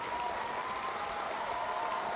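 A large crowd cheers and applauds in a steady, dense roar that holds at an even level the whole time, with no single voice standing out.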